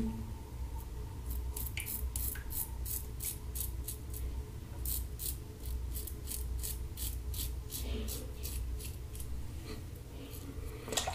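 An aluminum safety razor shaving through facial hair, a rapid series of crisp close scraping strokes in a steady rhythm over a low background hum, with no talking.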